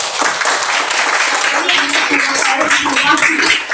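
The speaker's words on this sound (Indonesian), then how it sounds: "tepuk tangan dulu buat teman kita" Sustained applause from a classroom of students clapping for a classmate, dense and steady throughout with some voices mixed in.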